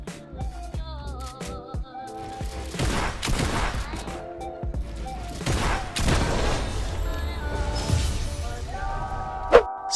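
Video game gunfire during a Fortnite winning kill, bursts of rapid shots and booms mixed with game music and effects, loud and continuous with a sharp hit near the end.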